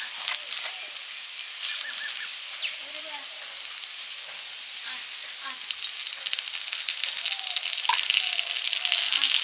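Tender neem leaves fry in ghee in a home kitchen, giving a continuous crackling sizzle that grows louder and busier toward the end, with no talking.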